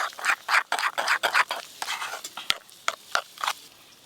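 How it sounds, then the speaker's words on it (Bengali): A mustard and poppy-seed paste with green chili is stirred together with salt, turmeric and mustard oil, giving a steady run of close wet scraping and rubbing strokes with a few sharper clicks of utensil on bowl. "এবার দেব লবণ, হলুদ গুঁড়ো, সর্ষের তেল, সব কিছু একসঙ্গে ভালো করে মিশিয়ে নেব।"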